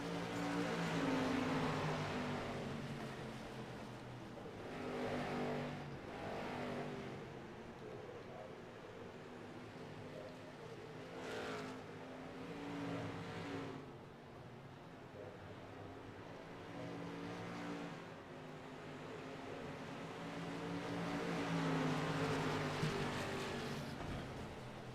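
Race cars lap the North Wilkesboro track during an Ironman fall nationals event, their engines roaring past in repeated swells at a distance while an announcer talks over the noise.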